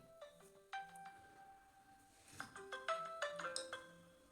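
A mobile phone ringtone plays a quiet, bright melodic tune of stepped electronic notes, growing busier toward the end, heard faintly during an indoor chemistry lesson.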